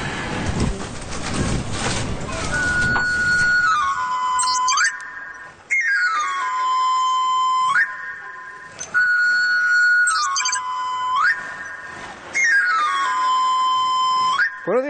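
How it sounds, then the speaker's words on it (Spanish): A traditional Spanish knife sharpener's whistle, a pan-pipe style chiflo, plays loud, repeated sliding runs of bright tones in several phrases, each a rising and falling sweep with short gaps between, after a brief burst of street noise. "El chiflo de los afiladores de toda la vida."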